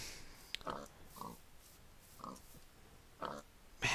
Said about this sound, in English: Man, there's so many pigs.